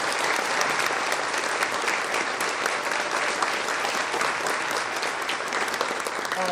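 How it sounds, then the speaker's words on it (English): An event crowd gives a sustained round of applause for three honored educators, thick and even clapping that carries on without a break and with no voices over it. "Can you please join me in a round of applause for our 3 outstanding educators?"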